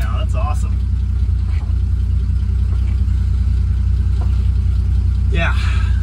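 A 1948 Dodge Power Wagon truck engine running steadily in low range, a constant low rumble throughout with a few faint clunks over it.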